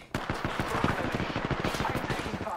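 Rapid automatic gunfire in the battle royale game Apex Legends, a dense stream of quick shots close in the mix, with a voice talking over part of it.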